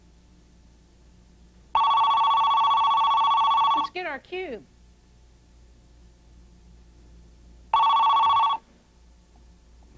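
A telephone rings loudly and electronically during a phone call at a research center, one long ring and a later shorter one, with a brief voice between them.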